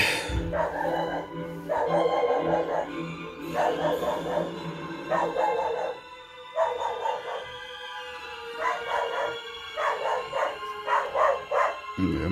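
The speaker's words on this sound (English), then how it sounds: "my dog hates other dogs" A dog barks repeatedly at other dogs passing by, in short clustered bursts of sharp, fairly close barks with brief pauses between volleys.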